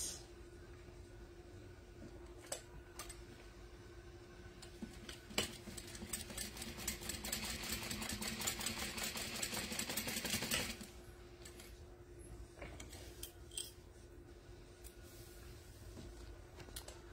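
Sewing machine stitching a Boon wallet, a fast rattling run of stitches for about five seconds, preceded and followed by quieter taps and handling noises.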